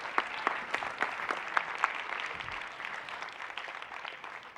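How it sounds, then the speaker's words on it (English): An audience at a fintech pitch competition applauds after the final pitch, a few sharp claps that swell into a dense round of clapping and then slowly thin out. "big round of applause."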